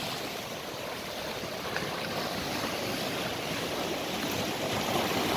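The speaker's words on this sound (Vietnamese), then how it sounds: "Biển hôm nay rất là đẹp, sóng cũng tương đối khá là êm" Gentle waves wash steadily onto a sandy, pebbly beach at Mui Hon Lan in Tan Thanh on a calm day, a continuous soft surf hiss with a faint breeze and no voices.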